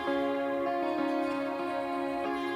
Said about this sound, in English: there's an electric guitar in there, and then there's also one of the E-bow acoustics that's buzzing